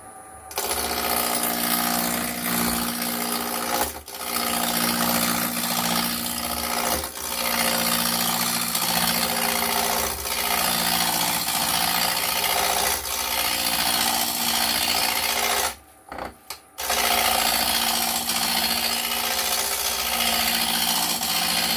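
Wood spins on a lathe as a gouge roughs the blank to a cylinder for off-center turning, a loud continuous scraping and rasping with brief pauses near the start and a short break toward the end.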